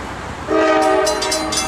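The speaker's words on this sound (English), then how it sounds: "See a train coming" A train horn sounds midway through, a brief, loud two-tone chord against steady rail rumble and rushing noise as the train comes near, with no talk.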